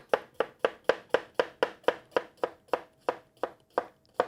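A knife slices a cucumber on a cutting board in about fifteen even, crisp chops at a steady quick rhythm, close and clear with no talk.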